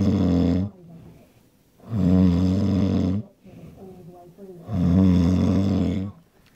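A sleeping person snores three times in a slow, steady rhythm. Each loud, rasping inhale lasts about a second, and quieter breathing fills the gaps between them. The snoring is close and prominent.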